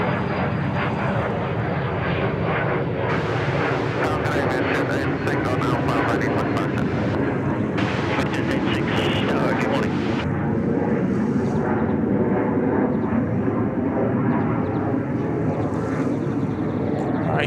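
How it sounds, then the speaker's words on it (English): Jet airliner taking off from runway 34 right at Sydney Airport, a loud sustained engine roar throughout, with talk heard over it. "Making a nice quick departure there off runway 34 right."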